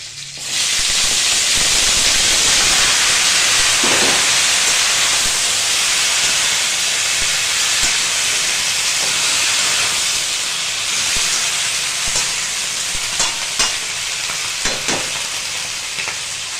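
Bottle gourd greens hit hot oil seasoned with green chillies and black cumin, bursting into a loud, steamy hiss that holds steady for many seconds, with occasional stirring scrapes and taps near the end.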